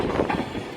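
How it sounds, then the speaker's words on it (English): A Virgin Pendolino high-speed train at Carlisle station on the West Coast Main Line gives a steady, close rumble with a faint squeal, heard only briefly. "Virgin Pendolino service to Glasgow Central as well"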